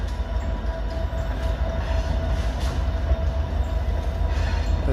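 A GP38 diesel locomotive in the Newark rail yard gives off a steady low rumble of idling engine and rail noise, moderately loud and continuous throughout with no talking.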